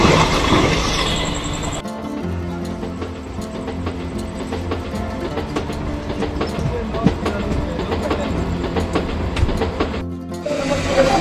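Bagh Express train running toward Bandel junction, a loud steady rumble with a rapid clickety-clack of wheels over rail joints throughout, heard from inside the carriage with no talk.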